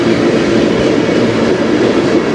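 A freight train on the Strathroy Subdivision near Sarnia rumbles past close by, a loud, steady roar of wheels and cars with faint rhythmic clatter throughout and no voices.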